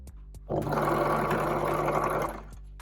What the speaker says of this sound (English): Now we're going to sew this bag together with a 1 centimeter seam